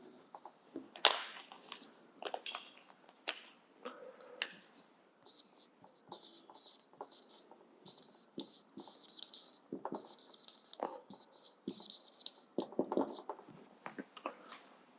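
Pen or pencil scratching out anatomy notes on a board or paper, a run of quick strokes and taps with short pauses, fairly faint and close, with soft murmured voices now and then.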